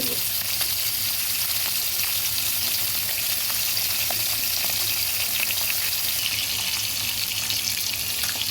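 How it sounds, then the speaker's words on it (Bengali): Koi fish fry gently in oil for a tel koi dish, a dense, even crackling sizzle that stays loud and steady throughout, with no voices. "আস্তে করে মাছগুলো ভেজে নিচ্ছি খুব কড়া করেও ভাজবো না আবার একদম কমও ভাজবো না"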